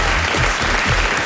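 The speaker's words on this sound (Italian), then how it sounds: "merita un applauso doppio" A studio audience claps during an Italian Rai Radio 2 broadcast, loud, dense and continuous applause filling the short stretch without pause.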